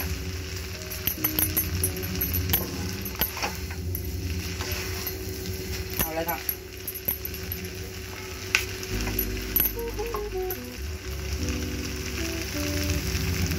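Veg noodles stir-frying in a pan over a high flame, a loud steady sizzle throughout with scattered scraping and clinking of a stirring spoon, close up and without talking.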